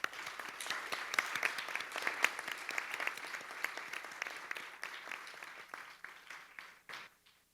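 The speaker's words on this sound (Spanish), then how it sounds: "Les pido un aplauso, por favor." Audience applause at an anniversary event for a human rights and peace master's programme, a steady wash of many hands clapping that swells early, holds for several seconds, then thins and fades out.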